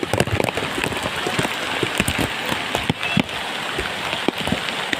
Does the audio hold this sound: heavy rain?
yes